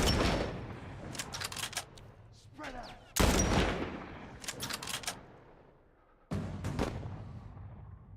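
Gunfire in The Last of Us Part I, several sharp bursts and rapid cracks of shots in clusters with short quiet gaps, moderately loud and close, with no clear talk over it.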